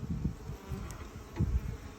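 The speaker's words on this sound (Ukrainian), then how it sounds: "бджола, ви бачите, летить" A honeybee buzzes close by in short, wavering bursts as it flies around an apiary during the sunflower nectar flow, the drone rising and fading.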